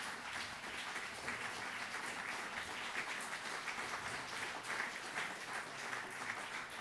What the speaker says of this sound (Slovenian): mi pa bomo tale aplavz seveda še podaljšali